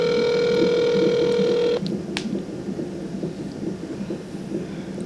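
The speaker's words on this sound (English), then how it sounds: "We even started making phone calls to the billing department to make sure everything was A1." A telephone call to a hospital billing department sounds a steady electronic tone for under two seconds, followed by a click and faint line noise, with no one speaking.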